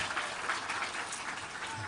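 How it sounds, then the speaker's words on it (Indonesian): A crowd applauds a teacher at a gathering in Mataram with honorary teachers, steady dense clapping filling the whole stretch at moderate level with no break. "Tapi tepuk tangan dulu buat beliau nih Pak Mus."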